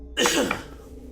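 A single sharp, close sneeze bursts out abruptly at a tabletop gaming session, then trails off into quiet.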